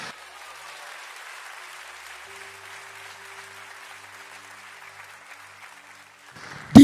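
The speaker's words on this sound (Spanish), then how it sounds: "Denle un aplauso a Dios." Congregation applauding God during a church sermon, a soft, steady wash of clapping that carries on evenly for several seconds before a sharp loud burst at the end.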